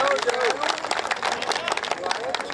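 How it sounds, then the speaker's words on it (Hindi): An audience applauds at a Hindi comedy poetry gathering, with dense and fairly loud clapping from the crowd and a murmur of voices underneath. "इसलिए एक बार अपने लिए आप तालियां बजाइए।"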